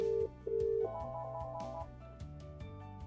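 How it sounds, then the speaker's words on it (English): A Polycom VVX 501 desk phone plays the ringback of another extension during a call transfer: two short tone bursts, then softer repeating tones, faint and with no talk. "you can hear the other phone ringing."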